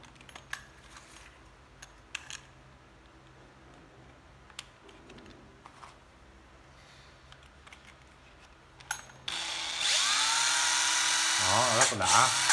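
A used Japanese cordless hammer drill whirs loudly and close for the last few seconds, its pitch wavering as the speed changes. Before that, a person talks over faint clicks and handling noises.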